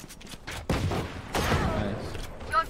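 Burst of gunfire in the tactical shooter game Valorant, a few quick shots over roughly two seconds, fairly loud within game audio.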